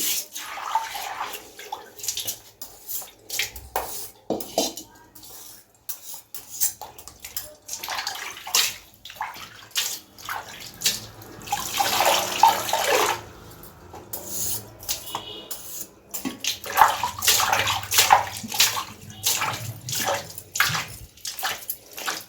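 Water splashes and trickles over a stone grinding mortar as it is rubbed clean by hand, with intermittent rubbing, sloshing and gurgling at close range.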